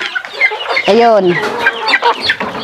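A mother hen clucks loudly close by, with a drawn-out call among rapid short clucks, while someone speaks briefly over it.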